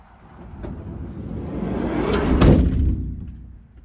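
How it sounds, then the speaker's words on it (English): A camper van's metal door is slammed shut, a single hollow, tinny bang with a rattling resonance rising over a low rumbling background. "when you slam that door, it definitely sounds like you're in a tin can"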